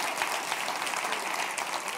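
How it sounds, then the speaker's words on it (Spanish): A church congregation breaks into warm applause during a sermon, many hands clapping in a dense, continuous patter at moderate volume with no talking over it. "Denle un aplauso al Rey bendito"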